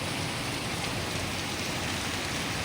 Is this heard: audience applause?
no